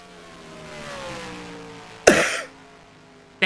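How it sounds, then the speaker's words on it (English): A single loud, sharp cough bursts out near the mic during a pause in a race broadcast's starting-lineup segment, with faint engine hum underneath; a second brief cough-like onset appears right at the end. "Thanks for that cough"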